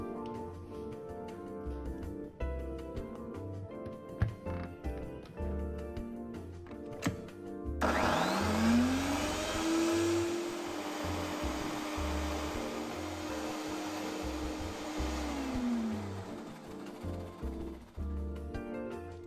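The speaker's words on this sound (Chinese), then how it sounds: "去皮后磨成泥，斑斓叶4-5片，剪成小段，全部倒入搅拌器" A blender starts up abruptly and whirs loudly, blending grated cassava, cut pandan leaves and coconut milk, its motor pitch rising then holding steady, after quieter background music and small kitchen knocks.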